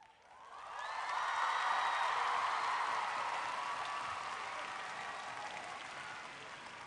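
An audience bursts into applause, many hands clapping in a dense, even roar that swells quickly and then slowly fades, with faint cheering in the mix.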